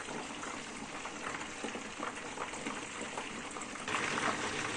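Potatoes frying in hot oil, a steady dense crackle and hiss held close throughout, swelling slightly louder near the end.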